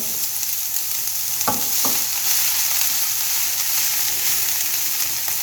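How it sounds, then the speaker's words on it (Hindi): Mashed potatoes go into a pan of lightly fried onions and are stirred, giving a steady soft sizzle with a couple of brief scraping knocks near the middle, all close and without talk. "अब हम इसमें जो आलू हमने पीस लिए थे, उनको मैश किया था, वो डालेंगे।"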